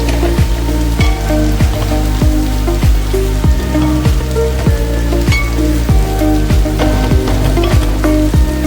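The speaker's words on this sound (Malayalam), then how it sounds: "നമുക്ക് വേണേൽ ഒന്ന് ഇളക്കി വെക്കാം." Elephant yam flower thoran is stirred in a pan, with a loud, close sizzle and a regular run of scraping spatula strokes about twice a second throughout, no voices.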